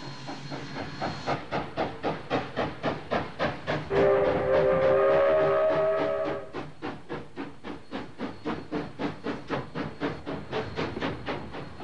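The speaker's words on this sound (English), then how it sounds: "the loco repositions for the trip back up the mountain" A historic locomotive shunts on a mountain zigzag railway, its steady rhythmic exhaust chuffs beating throughout, with a loud hiss of steam swelling midway before the chuffing carries on alone.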